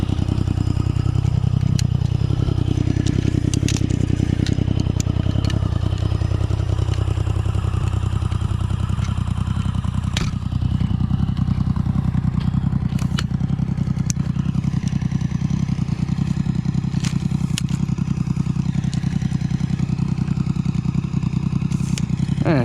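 A 1050cc Yamaha Raptor ATV is ridden, its engine droning loud and close throughout, with revs rising and falling over a constant rumble, plus clatter and scrapes from the ride, and no talking.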